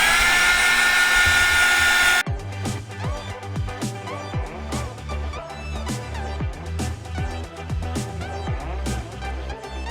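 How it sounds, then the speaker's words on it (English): A loud heat dryer blows on a journal page with a steady whining whoosh for about two seconds, then cuts off abruptly as rhythmic music takes over. "Or I can just use my blow dryer, my heat dryer."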